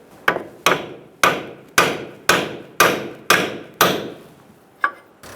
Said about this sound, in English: Use a pickle fork and a pry bar and work the ball joint out of the knuckle.